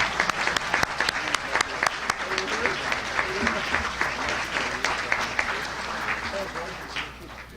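Steady applause from a crowd, many hands clapping close by, loud and sustained before tapering off slightly at the end.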